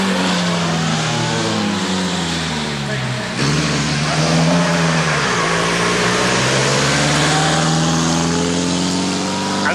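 A fearsome 6-litre GM special racing car climbs the Prescott hill climb, its loud, deep engine revving and changing pitch as it accelerates, with a voice talking over the roar.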